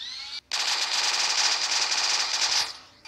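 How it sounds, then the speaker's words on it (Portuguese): A video game mod's machine gun fires in one sustained, loud, rapid burst after a brief click, the shots blurring into a dense rattling roar for about two seconds before stopping abruptly. "E também, galera, tem a machine gun."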